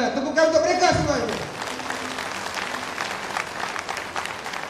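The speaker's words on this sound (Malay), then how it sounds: "Tepukan untuk mereka semuanya." An audience at a Malaysian PPBM political rally featuring a party leader claps in a sustained burst of applause. A voice over the sound system is heard at the start, and the clapping carries on steadily after it.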